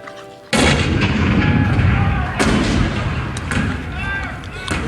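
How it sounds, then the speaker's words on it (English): Cannon fire at Fort Sumter in April 1861 sets off a sudden loud boom after half a second of quiet, then rolling continuous artillery blasts and rumbling reports, with another sharp shot midway, close and heavy throughout. "The cannon spoke for war, bitter, violent, and devastating."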